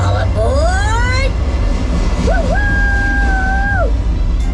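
An EPCOT Journey Into Imagination dark-ride vehicle rolls along with a steady, loud low rumble, while electronic tones sweep and glide overhead and voices speak over it.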